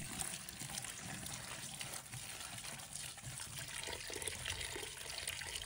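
Napa cabbage, torn into small pieces, washed under a running kitchen tap: a steady, close stream of water splashing and trickling over the leaves, with no voices.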